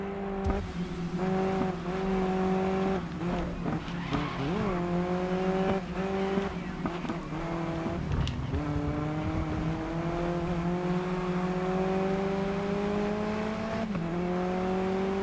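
Race car engines roar during a Track Day career race in the GRID Legends video game, a loud, continuous drone that rises and falls in pitch with brief dips as gears change, with no voices.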